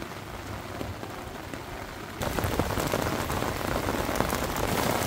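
Steady rain pattering on a surface while lure fishing, then abruptly growing heavier and louder partway through, a dense hiss of drops with no voices.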